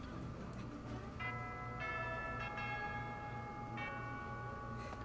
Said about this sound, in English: That little bell, that's cute.